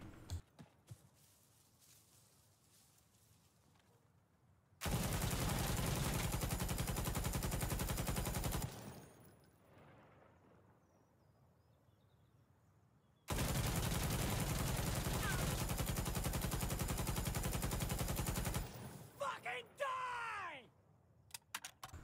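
PKM machine gun fired in Insurgency Sandstorm in two long sustained bursts, loud and rapid, separated by a quiet gap, followed by ringing echoes and mechanical clicks.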